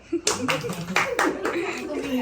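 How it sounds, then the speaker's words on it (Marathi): A group claps hands at a Marathi family celebration, a burst of applause with several sharp spikes running for about two seconds, while voices talk and laugh over it. "टाळ्या"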